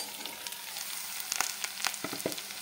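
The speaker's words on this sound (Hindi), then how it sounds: "अब इसमें कटी हुई तुरई डाल दें" Chopped ridge gourd drops into a pan of frying onions, setting off a close, steady sizzle with a few sharp crackles and spatters scattered through it, no voices present.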